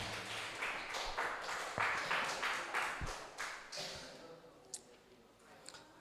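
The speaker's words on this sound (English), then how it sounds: "Give applause for Badru Zaman." Audience applause in a classroom-style session of an advanced class at an Islamic boarding school, a burst of scattered hand claps lasting a few seconds and trailing off into a quieter room with a couple of faint knocks.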